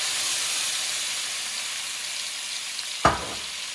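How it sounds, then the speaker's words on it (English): Vermouth hits a hot pan of shrimp, butter and oil, giving a steady loud, close sizzle and hiss, with a sudden burst of sputtering near the end. "We're going to add the vermouth. Not a lot. Enough to deglaze a little bit."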